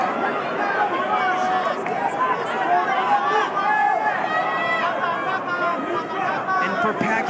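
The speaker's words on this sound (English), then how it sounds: "Just listen to that crowd. They're enjoying this." Dense, steady crowd roar filling a boxing arena during a professional bout, Pacquiao against Barrios, with a continuous murmur of many voices and scattered shouts throughout.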